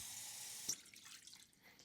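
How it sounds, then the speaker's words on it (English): Cold tap water running into a glass measuring cup in a kitchen, a steady close hiss that cuts off partway as the faucet shuts, leaving faint room sound. "let's get 3/4 of a cup of cold water here"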